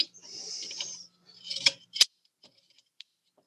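A Marlin Model 60 rifle bolt set down onto the charging handle and clicked into its notch: a scraping slide of metal, then two sharp clicks close up and a few faint small taps afterward, alone and quiet.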